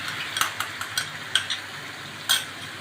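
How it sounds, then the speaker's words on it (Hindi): Yogurt and spices stirred and fried in a pan for mutton siri paye, giving a soft steady sizzle with sharp spoon-scrape clicks scattered throughout, close and fairly quiet. "अब हमने इसको अच्छे तरह से भूनना है कि सारे मसाले मिक्स हो जाएं"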